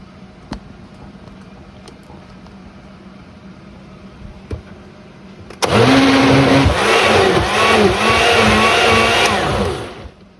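After a few faint clicks, a blender roars to life loudly, whirring and grinding peeled tomatoes for pasta sauce for about five seconds before winding down.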